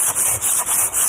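A Mercedes brake disc is hand-sanded in steady back-and-forth strokes, a close, harsh rasping that repeats about four times per second with no voices.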